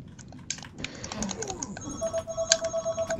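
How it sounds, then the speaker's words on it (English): A phone rings inside the Black Ops 3 video game, its repeating electronic tone pulsing steadily over keyboard-like clicks and game noise, loud and close. "Phone calling."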